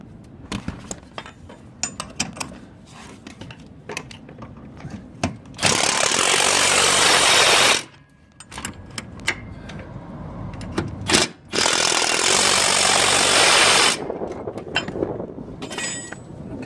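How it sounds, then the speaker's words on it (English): Camber shim bolts on a Mitsubishi L200 being tightened to 110 Newton meters. Two long loud bursts of a power-tool whir come a few seconds apart, separated by metallic clicks and clinks at close range. "So I'm just going to tighten these up to 110 Newton meters"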